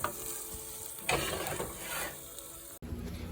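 A spinach and turkey omelette sizzles softly in oil over a low flame, a steady close frying hiss with bursts of stirring and a brief click near the end.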